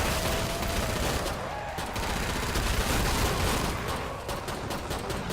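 Rapid automatic gunfire from the SWAT class in the Killing Floor 2 video game, a dense, continuous stream of shots with fast firing and explosive crackle throughout, loud and close.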